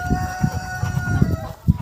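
Chickens and geese squawk and cluck in a farmyard, with several sharp bursts of calls repeating close by over a steady low background.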